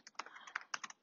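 Brief, quiet burst of keystrokes on a computer keyboard, a quick uneven patter of about a dozen clicks lasting around a second, with no talking.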